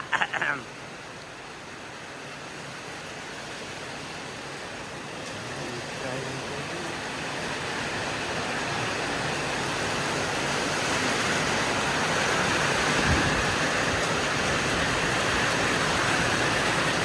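Heavy rain with wind: a continuous broadband roar that builds gradually in loudness, preceded by a brief knock at the very start.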